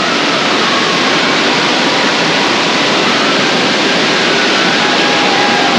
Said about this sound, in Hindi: यहाँ से वो पानी पूरा गिर रहा है, और गिरने के बाद ये पूरा एक कुंड जैसा बन जा रहा है